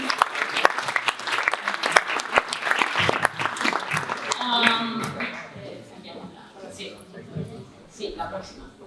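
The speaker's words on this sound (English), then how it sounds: "Give them a big applause." An audience claps loudly to welcome a panel at a COP16 conference session in Cali, a dense burst of applause that fades after a few seconds as voices and chatter take over.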